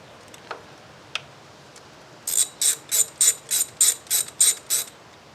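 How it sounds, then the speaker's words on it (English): A ratchet loosening valve cover bolts on a 2003 Toyota Camry 2.4L engine: a few faint clicks, then a regular train of about ten sharp, close ratcheting clicks in steady rhythm, with no talking. "as I go through and loosen up and remove each of these bolts"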